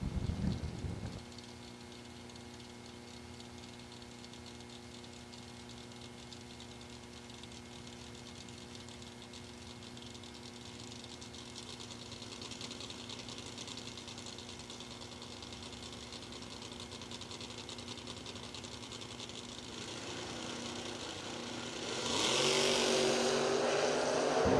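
A 1972 Chevy Nova drag car with a small-block Chevrolet engine rumbles at a distance under a steady hum, its engine note rising loudly near the end as the cars launch at a season kick-off drag race.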